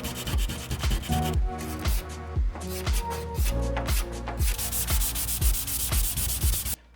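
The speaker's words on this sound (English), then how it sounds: "we are gonna be sanding on those stripes today" Paint stripes on a Honda Civic panel are sanded by hand with light, rhythmic back-and-forth rubbing strokes, close and brisk, with a short pause midway.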